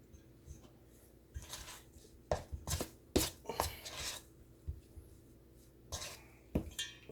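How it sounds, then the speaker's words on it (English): A spoon stirring sticky biscuit dough with milk in a bowl, producing irregular scraping and thudding clanks against the bowl in bursts, close and fairly loud, with no speech. "I'm mixing it with a spoon because right now you can't put it in your hands because it's gonna be real sticky."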